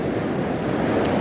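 Ocean waves surging and washing over a rocky edge on a coast, a steady close roar of surf with wind noise, no voices.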